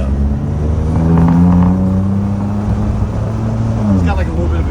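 Used car engine revving at a dealer auction, a steady loud rumble with rising and falling rev pitch throughout, up close under background chatter.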